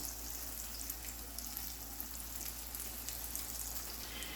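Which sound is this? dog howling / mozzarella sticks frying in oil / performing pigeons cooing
mozzarella sticks frying in oil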